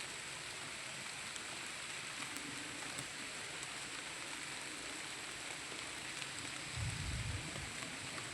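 Light drizzle falls outdoors during mango picking, a faint, steady hiss of soft rain that stays even throughout, with a brief low rumble near the end.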